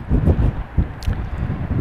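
Strong wind buffeting a microphone outdoors beside a Dacia Sandero, gusty low rumbling bursts that rise and fall in quick succession, with no talk.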